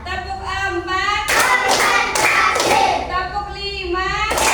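A classroom group, likely children, claps hands in a rhythmic pattern, a few sharp bursts of clapping breaking in between stretches of chanted voices, loud and close.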